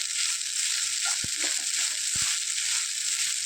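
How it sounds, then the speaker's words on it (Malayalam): Leftover puttu and egg frying while being stirred, a steady loud sizzle with a few scraping knocks of the spoon against the pan, close up and without any voices. "ഇളക്കിക്കൊണ്ടേയിരിക്കണം നന്നായിട്ട് ഫ്രൈ ആയി വരുന്നവരെ"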